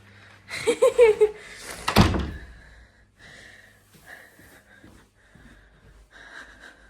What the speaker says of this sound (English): Let me go and shut it and do that again and show you from afar.